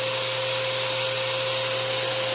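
A repaired vacuum cleaner runs continuously at low power setting, a steady close whine with a constant hum and no pauses or voices.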